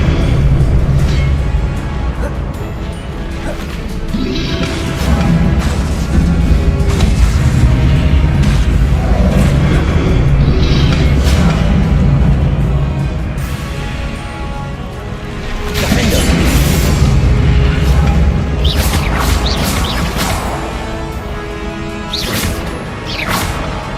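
Repeated Bombarda blast spells in Hogwarts Legacy, heavy booming explosions and crashing impacts with whooshes, loud and sustained through dense game combat noise, with occasional shouted spell names.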